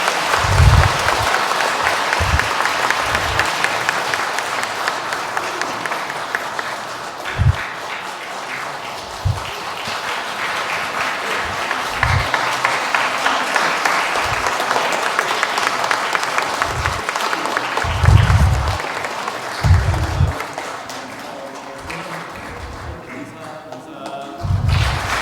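A church congregation applauds for a parish priest's feast day, a sustained round of clapping from a crowd in a large room. Dull thumps occur at intervals, and voices can be heard among the clapping.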